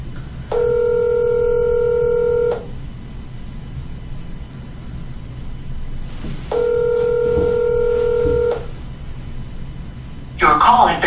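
A phone call rings out: two long ringback tones about four seconds apart, each lasting around two seconds over a quiet line hiss, followed by a voice starting at the very end.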